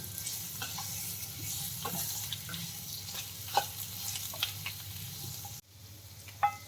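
A spoon stirs dry potato bhaji seasoned with rock salt and black pepper in a pan, soft scraping strokes over a low sizzle with a few sharper clinks, fairly quiet throughout.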